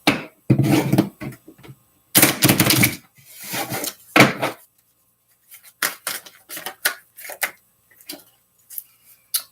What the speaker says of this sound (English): I need to shuffle my cards really, really good.